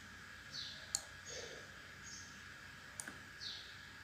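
A computer mouse clicks on a desk while shapes are drawn in CorelDRAW: two faint, sharp, isolated clicks a couple of seconds apart over a quiet room hiss with soft high chirps.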